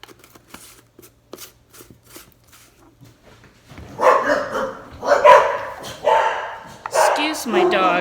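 Bored dogs indoors bark in several loud, close bursts during the second half, following a stretch of light tapping and clatter from a kitchen.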